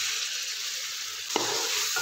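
Tomatoes dropped into a hot wok with garlic and onion, a steady bright sizzle and hiss that swells with a short clatter as they land, near and with no voices.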